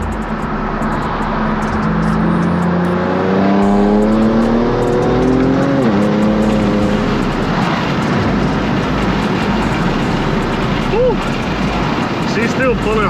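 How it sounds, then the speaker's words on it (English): Heat-soaked Infiniti Q60 engine with aftermarket intakes accelerating hard, a loud rising intake roar and climbing rev sweep heard from inside the car, with a voice speaking over it. "these intakes sound amazing"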